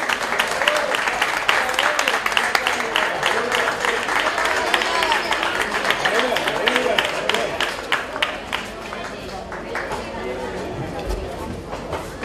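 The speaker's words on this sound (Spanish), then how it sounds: "Un aplausito para ellos." A crowd applauds a championship team at a Marbella celebration, with crisp individual claps and lively chatter and voices mixed in, the clapping thinning somewhat toward the end.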